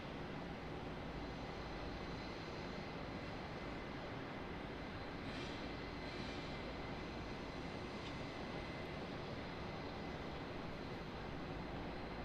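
An airplane arriving at Raleigh-Durham International Airport gives a steady, fairly faint broadband engine roar that holds level throughout, with no talk over it.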